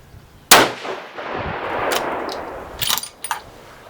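A single rifle shot from a 7mm SAUM firing 180 grain Berger hybrid bullets loaded with H4831SC powder; one loud, sharp close report followed by a lingering rumble, then metallic clanks of bolt handling.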